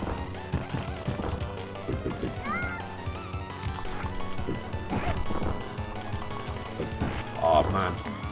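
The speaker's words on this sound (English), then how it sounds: "He's just smashing me in the head with a wrench." Repeated whacking impacts from an enemy striking the player's head with a wrench in a SNES video game, loud crunchy hits scattered over busy game music and effects, with a sharper burst near the end.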